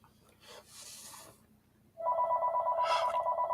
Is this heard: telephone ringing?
yes